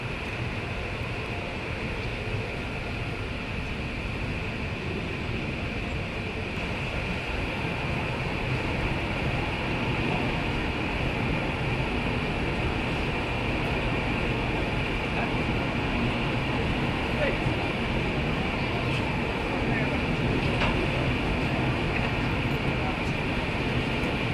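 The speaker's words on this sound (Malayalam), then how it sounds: "അങ്ങനെ ട്രെയിൻ എറണാകുളം സ്റ്റേഷനിലേക്ക് എത്തി" Steady train running noise with a continuous rumble and rail hum as the train pulls into Ernakulam railway station, loud and unbroken throughout, with faint voices mixed in.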